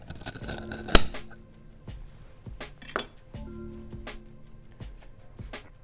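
Knife and fork work through steak on a plate, giving light metallic clinks and scrapes in an irregular rhythm, with one sharper clink near the start, close by and fairly quiet.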